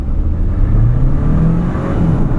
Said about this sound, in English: You get the electric noise of the hybrid, and then you get the turbo whooshing.